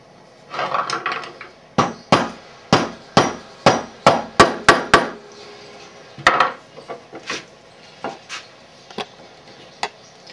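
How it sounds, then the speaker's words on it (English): A cork being fitted into a handmade flute produces a series of sharp wooden taps and knocks, about a dozen quick strikes in a run followed by a few scattered lighter taps, close and alone. "Now it's time to put in the cork."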